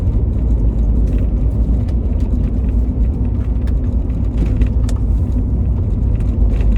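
A car pulls across the road into the left lane and accelerates on a driving test route along Prestons Road in Northwood, with a steady, close engine and tyre rumble that holds throughout.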